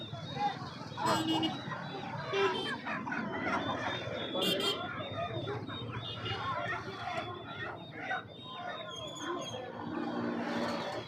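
Chickens and chicks cluck amid the crowd at a busy Sunday poultry market selling country hens and fighting roosters, the birds mixed under steady nearby chatter and people talking.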